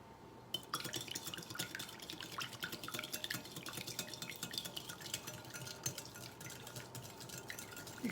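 An egg being mixed into butter in a bowl, with continuous soft wet clicking and scraping of a utensil against the bowl, steady and close throughout.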